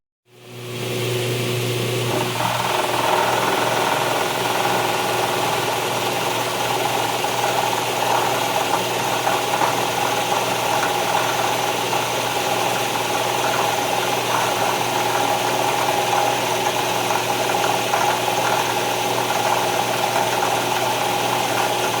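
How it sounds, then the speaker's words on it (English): A milling machine cuts a slot with a 1 inch high speed steel end mill, producing a continuous, even drone with a gritty rattling edge that starts abruptly and holds steady throughout. "First pass with a 1 inch high speed steel end mill. So I'm making the slot for the bar."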